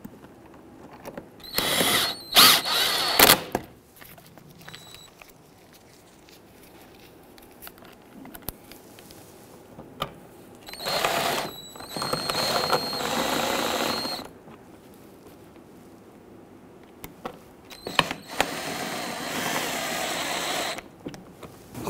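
Screws are driven into the lower fender molding of a 2011-2019 Ford Explorer, three separate bursts of close ratcheting, whirring tool noise with quiet pauses between them.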